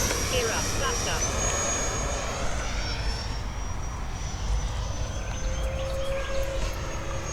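An FMS Super Scorpion 90mm RC jet takes off, its ducted-fan engine a loud, sustained whining roar with shifting pitch, heard close throughout with a person talking over it.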